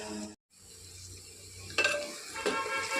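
Chicken curry masala with onions sizzling in a pan, a steady close frying hiss broken by a brief dropout, then a few louder scraping bursts from a spoon stirring the onions; no talking.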